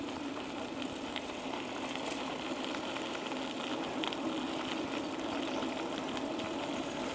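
A trail bike engine runs steadily through a ride at a sluggish pace, a constant low drone with mid-range rattle and some wind noise, moderately quiet and with no talk over it.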